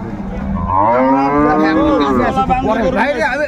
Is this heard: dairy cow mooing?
yes